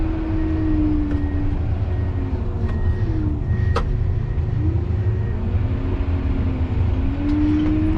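A 2020 John Deere 772 GP motor grader turns around on a gravel road, its diesel engine droning steadily and loudly up close with a low rumble and shifting whine throughout, no voices.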